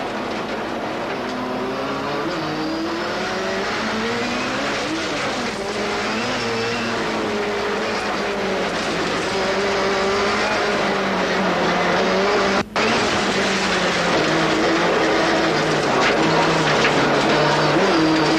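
Rallycross race cars from the 1986 European championship roar continuously, engines rising and falling in pitch as they race, loud and sustained throughout with no break.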